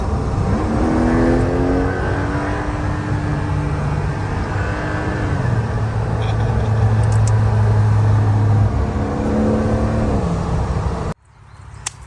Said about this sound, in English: now we are back on the road in the Porsche 911 GTS T-Hybrid